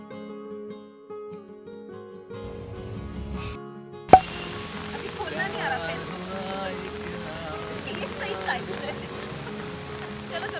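After a sharp click, rain patters steadily on a surface in Nainital in June, a soft continuous hiss that replaces the quieter tones at the start.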